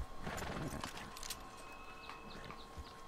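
Horse hooves clopping with faint neighing, fairly quiet and distant, over a steady background hum and tone, from the game Red Dead Redemption 2.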